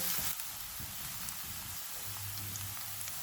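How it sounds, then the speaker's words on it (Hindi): Chopped green onion frying in hot oil over low to medium heat gives a constant, crackling sizzle like light rain, with a few faint low knocks beneath it. "ऑयल गर्म हो गया, इसमें 1 ग्रीन प्याज डालेंगे।"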